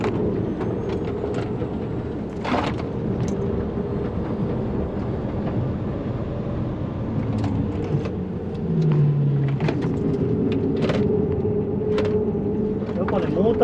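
A Xiaomi SU7 electric car, 673 hp and about 2,200 kg on standard suspension, laps the Tsukuba race circuit. A steady cabin rumble of tyres and road carries on throughout, with a faint motor whine rising and falling beneath a driver talking.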